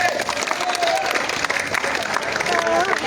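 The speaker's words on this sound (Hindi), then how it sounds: "चले जी ताली एक मरतबा फिर हो जाए" An audience at a cricket tournament final awards ceremony applauds in a dense, steady clatter of clapping that continues under an announcer speaking over it.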